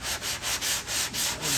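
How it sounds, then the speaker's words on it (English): Gold body filler on a car fender, a 2024 Rapid Red Mustang GT, is hand sanded with 80-grit paper. Close, rhythmic back-and-forth strokes, about six in steady succession, with no voices. "I do it by hand so I don't overcut. This filler I got, this gold filler, is easy to sand."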